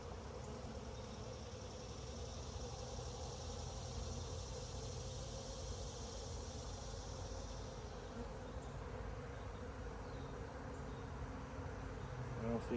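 A dense, steady drone of honeybees buzzing around an opened hive during a queen check, continuous and close for the whole stretch with no breaks.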